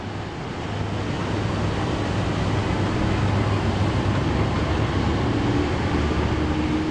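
A historic special train hauled by an E04 electric locomotive pulls out of Berlin Charlottenburg station, giving a steady, continuous low rumble and rolling noise that holds at even loudness throughout, with no voices.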